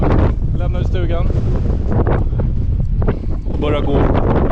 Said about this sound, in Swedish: det är en kraftig vind, och det kommer bli ännu värre